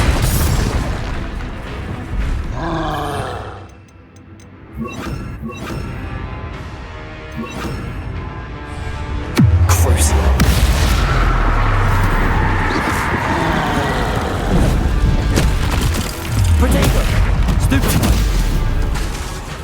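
The Bombarda blasting spell goes off during combat in Hogwarts Legacy, with deep booms and crashing impacts over a loud rumbling game soundscape, several heavy blasts arriving in uneven succession.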